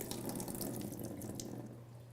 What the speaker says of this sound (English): So you're going to drain the water